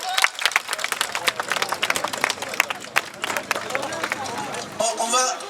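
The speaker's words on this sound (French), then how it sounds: "On applaudit le maire de Stein, s'il vous plaît," A crowd at a street march applauds the mayor of Stein, with steady clapping and some murmuring for about five seconds before the clapping fades into scattered voices.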